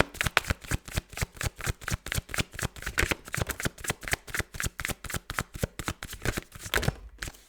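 Tarot cards shuffled in a steady rapid rhythm, dozens of crisp riffling slaps close to the microphone, continuing without talk until a brief pause at the end.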